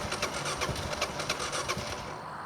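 A carbureted Kawasaki KLR 650 motorcycle engine starts on choke, cranking and then sputtering in a rapid, uneven chugging pulse, close and fairly loud with no talk.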